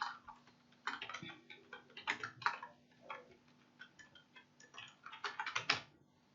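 A name being typed on a computer keyboard: irregular bursts of light key clicks with short pauses between them, close and fairly quiet against a faint steady hum.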